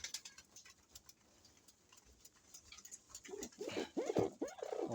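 Soft, low pigeon coos rise near the end after a quieter stretch of faint rustling and pattering, several birds close by.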